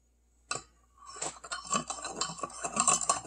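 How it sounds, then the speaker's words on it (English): A spoon stirs sugar in a cup, clinking and scraping against the sides in quick, close repeated strokes after a single sharp tap, with no voices. "Sugar. I have to stir."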